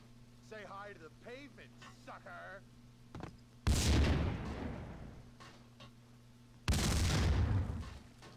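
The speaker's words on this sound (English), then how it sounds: "That's explosions." Explosions in the shooter game Max Payne 2, two loud booming blasts a few seconds apart, each decaying into a rumbling roar, after a stretch of in-game dialogue and quiet.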